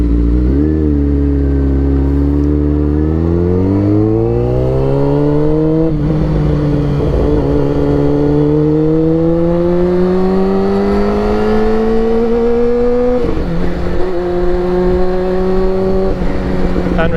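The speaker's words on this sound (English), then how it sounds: "bike sounds extremely cammed, but it's literally just got a slip" Honda CBR motorcycle with a slip-on exhaust, engine revving loud and close, pitch climbing in long sweeps between gear changes with a rough, lumpy tone.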